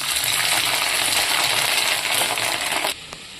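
Fish roe fritters fry in hot mustard oil, giving a loud, steady crackling sizzle that holds nearly three seconds, then drops abruptly to a quieter hiss.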